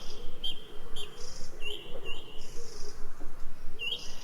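Scattered high bird chirps ring out at intervals over a steady, low rumbling background, like calls heard outdoors among trees.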